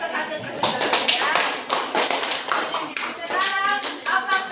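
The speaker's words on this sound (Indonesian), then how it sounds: "tepuk tangan untuk hasil presentasinya" Classroom applause after a group's presentation in a discussion lesson: a burst of hand clapping from students, steady and close, with a few voices mixed in.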